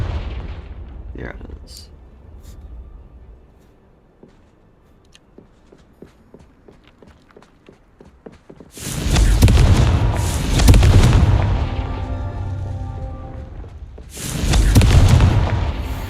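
Confringo fire spell explosions from the game Hogwarts Legacy: two heavy, booming blasts arrive in a row after a quieter stretch, then a third burst follows a few seconds later, loud and close, with a brief spoken line before them.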